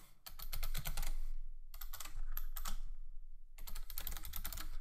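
Fast typing on a computer keyboard while entering a username on a sign-up form, three dense bursts of rapid clicking separated by short pauses.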